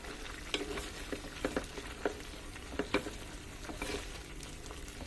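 A simmering mutton (goat) rezala curry is lightly stirred in a pot after the lid comes off, with soft bubbling and scattered scraping clicks of the spoon, fairly quiet and without speech.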